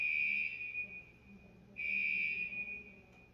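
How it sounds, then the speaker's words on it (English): A shrill, steady electronic alarm tone sounds, cuts out briefly, then resumes just as loud, with faint room noise beneath. "just would love the fire alarm to stop."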